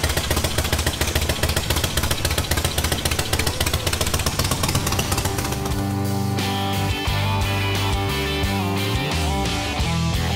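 A homebuilt motorcycle engine clatters loudly in rapid pulses as it is pushed to start, then settles into a steady, throbbing idle close by.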